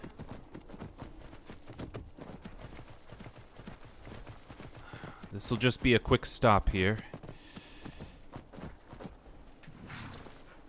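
Horse hooves clip-clopping in Skyrim, a steady walking rhythm of hoof beats under a man's speech, with a louder burst of movement partway through.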